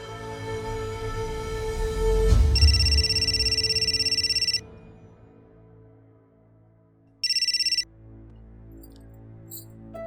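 A telephone rings in two electronic trilling bursts, the first about two seconds long and the second shorter after a pause, over a quiet room tone following a soft thud.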